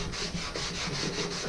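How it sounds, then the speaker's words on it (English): Wet sandpaper rubbed by hand over car body panels before painting, a steady close scrubbing with regular back-and-forth strokes repeating about every quarter second, continuous and alone. "I'm just going to take our wet sandpaper and start wet sanding all these parts"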